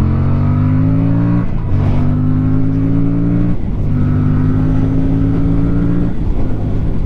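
Aprilia Tuono 457 motorcycle engine accelerating hard through the gears, a loud, close, steadily rising whine with three brief dips at shifts, no talking.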